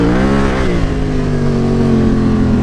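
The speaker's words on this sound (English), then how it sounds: "Gotta love the sound of the Tenere." A Yamaha Tenere 700 motorcycle with an aftermarket exhaust pipe idles and revs close by, giving a steady, loud, throbbing engine note that rises slightly early on, with no talk.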